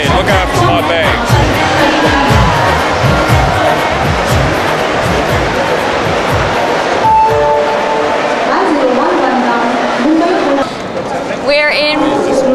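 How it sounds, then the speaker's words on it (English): A train stands at a busy station in Mumbai, with loud crowd noise and rumbling carriages all the way through. People talk over it, and a high squeal rises near the end. "And this is the train we will be catching."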